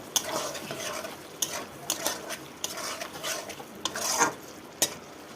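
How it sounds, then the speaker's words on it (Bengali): Fried taro pieces tumble into cooked spice paste in a pan, setting off a steady sizzle with repeated scraping stirs and metallic spoon clinks against the pan; no talking. "কচুটা আমি ভেজে রাখা কচুটা দিয়ে দিলাম"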